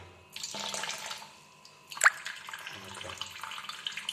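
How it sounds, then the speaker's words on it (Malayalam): Running water pours into a basin with splashy, uneven gurgling, a brief sharp clink partway through, and faint background noise, as the basin is filled for washing fruit. "ഇതിൽ വെള്ളം നിറയ്ക്കട്ടെ"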